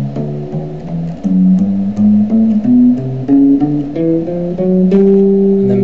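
A bass guitar plays a steady chromatic run of single plucked notes, one note per step, each clear and close with a short sustain.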